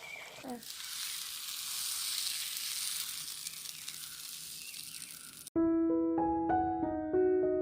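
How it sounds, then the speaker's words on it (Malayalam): Hot oil sizzles loudly and steadily as cooked chickpeas and water go into a pan for a village-style kadala curry, ending abruptly before a cut to a different bright tonal passage. "ഇനി ഇതാ വെള്ളവും കടലും എല്ലാം കൂടെ ഇട്ട് കൊടുക്കും"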